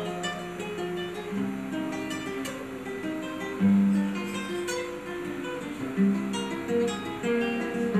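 A romantic Argentine zamba is performed live, a new piece by a Santiago violinist, with a sustained melodic line over steady accompaniment filling the space at moderate loudness.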